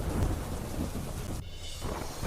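Heavy monsoon rain pours down in Kadi, Mehsana, a dense roaring wash with a deep rumble of thunder under it that briefly eases before the downpour swells again.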